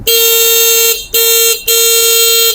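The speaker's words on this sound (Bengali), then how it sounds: "এটা হচ্ছে হর্ন" A motorcycle horn sounds three times in close succession, a loud, steady electric tone with a short gap between each honk, with no other sound around it.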